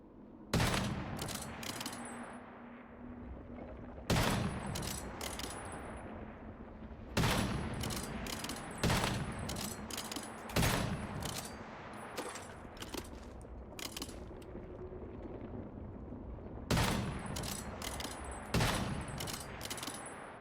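Repeated bursts of automatic gunfire in the survival shooter Once Human, loud and close, coming in rapid clusters with short pauses between volleys over a steady background din.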